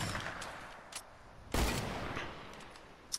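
Gunfire in the video game Fortnite: a single loud, close shot bursts out midway, with fainter distant pops before and after over quiet game ambience.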